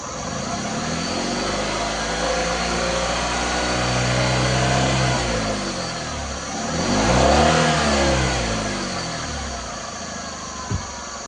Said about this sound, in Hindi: मैं इसको हाई एक्सीलेटर से रेव करूँगा और चेक करूँगा कि इधर से कोई ब्लैक स्मोक वगैरह तो नहीं निकल रहा है।